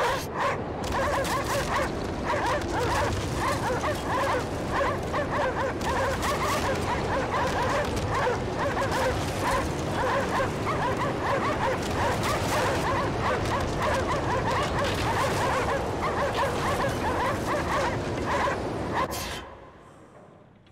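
A dog in the video game Cryostasis yelps, barks and whimpers in a steady stream of close, repeated cries that run nearly twenty seconds before cutting off abruptly.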